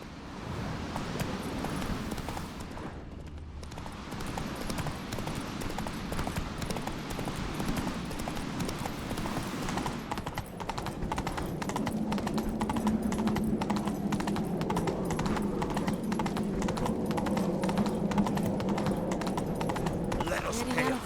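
A horse galloping in The Witcher 3, its hooves a fast, steady clip-clop rhythm that runs nearly the whole time over wind and ambient game noise, briefly dipping before picking up again.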